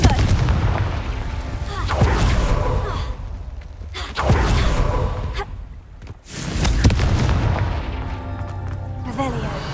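In the game Hogwarts Legacy, Confringo blasting spells go off as repeated heavy booming explosions with whooshing bursts, loud and close, punctuating a chaotic battle soundscape across several seconds.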